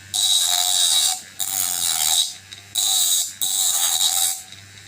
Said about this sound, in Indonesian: Ini saya gerindanya bikin ya guys, dari dinamo printer